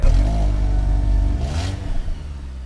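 A 2019 Audi A6 pulls away, its mid-pitched engine rising in a smooth rev as the car accelerates, heard steadily from inside the cabin with a low rumble underneath.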